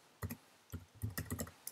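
Keys on a computer keyboard are typed in short bursts of clicks, a few quick taps, a pause, then a faster cluster, close and moderately loud with no talking.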